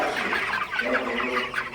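A flock of broiler chickens clucks continuously in a heated shed at night, many overlapping close calls forming a steady murmur with no talk.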